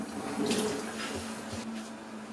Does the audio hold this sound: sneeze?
no